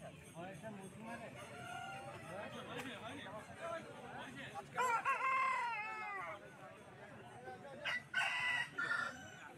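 A tall two-year-old rooster of about four kilos crows twice at a rural poultry market in Jhargram, West Bengal, the calls loud and close over steady crowd chatter and clucking from other fowl.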